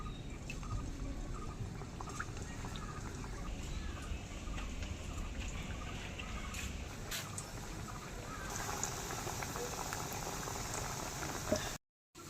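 Gram flour snacks sizzle and crackle steadily in very hot oil, a dense, continuous frying hiss that cuts off abruptly near the end.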